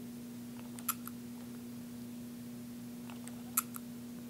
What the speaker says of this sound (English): You can push it all the way down, and it takes the picture, as you can see.